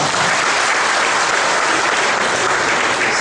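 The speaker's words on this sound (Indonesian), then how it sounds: "Tepuk tangan dulu buat saya." Loud, dense applause from a seminar audience, continuous and even across the whole stretch with no speech.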